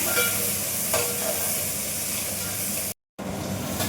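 Sliced onions and curry leaves fry in a pan, giving a continuous loud sizzle and hiss with occasional stirring clatter. A brief silent gap near the end is followed by more sizzling.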